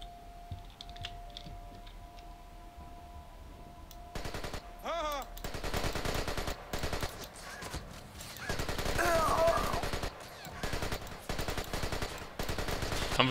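Video game gunfire in Splinter Cell: Conviction: after a quiet stretch, sharp shots and rattling bursts start and continue steadily, loud and close, mixed with clicking.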